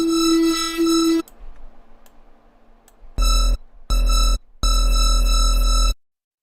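A Serum synthesizer bottle-blow pad plays sustained, breathy tonal notes: a short held tone that cuts off, a quiet gap, then three bright swelling bursts separated by brief silences before stopping abruptly.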